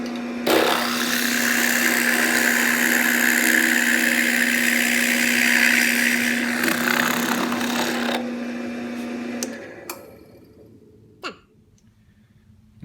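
A power drill bores holes through wood for a folding stool, a steady high whine lasting several seconds before it winds down, followed by a few quieter knocks.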